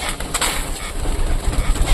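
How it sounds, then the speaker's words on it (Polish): Young pigeons in a loft at evening feeding coo softly and repeatedly, close and moderately loud, with rustling and scratching underneath. "Dzisiaj Was witam z gołębnika gołębi młodych z karmienia wieczornego."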